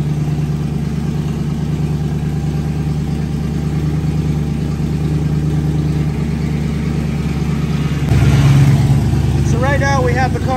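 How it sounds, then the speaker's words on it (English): A Nissan S13 fitted with a V8 engine idles loudly and steadily while its power steering pump runs. Near the end the tone shifts and rises into a whine as the load changes, and a voice speaks over it. "The car turned on, we're getting the power steering pump activated"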